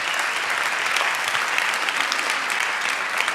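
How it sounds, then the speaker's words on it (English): An audience at a university graduation ceremony applauds the incoming moderator, a steady, even wash of many hands clapping at moderate loudness without a break, with no voices rising above it. "Give him a warm applause."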